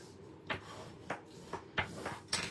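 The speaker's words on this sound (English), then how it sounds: "Let me fold it this way." Paper card being folded and creased by hand, giving five sharp, close crinkling snaps at uneven intervals over a quiet room background.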